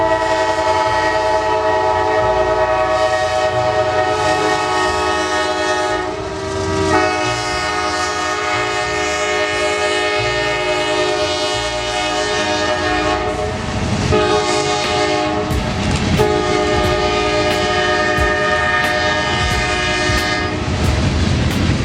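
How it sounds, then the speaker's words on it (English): A Norfolk Southern manifest freight train rolls past a railway museum, loud and close throughout, its horn sounding in long sustained tones over the steady rumble and clatter of wagons, with sharp wheel clicks near the end. "a Norfolk Southern manifest passes the museum and the 8202"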